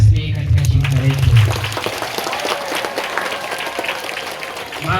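Applause breaks out at a church ceremony welcoming children as new members of a Catholic society, a dense wash of clapping that stays steady after a brief voice at the start and continues under faint crowd noise.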